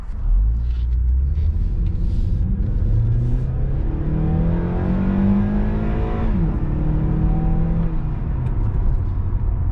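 A Honda Accord with a K24 engine and high-flow intake filter revs up, its deep rumbling note climbing through several rising sweeps and falling back, loud and close with a continuous low drone underneath.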